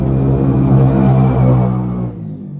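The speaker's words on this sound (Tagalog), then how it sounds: "Ingay talaga ng motor." A motorcycle engine revs loudly and close by with a deep, throbbing rumble, then drops away sharply near the end.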